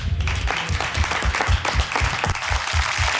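A crowd applauds at a WTLW-TV station event, a loud, dense wash of clapping that holds steady and close throughout without letting up.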